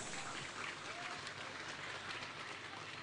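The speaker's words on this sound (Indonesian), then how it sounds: "Tepuk tangan untuk kita semuanya." A large audience claps steadily at a night-time Hari Santri commemoration gathering in Batang regency, Indonesia, making a dense, continuous wash of applause heard from a distance.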